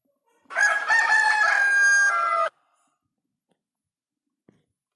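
A rooster crows once, loud and close, in one long cock-a-doodle-doo of about two seconds, followed by near silence.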